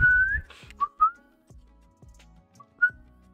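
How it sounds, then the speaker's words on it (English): Melodic whistling from a pop song, a few short sliding whistled phrases with soft percussive beats in between. "I really enjoyed that whistle addition to the song."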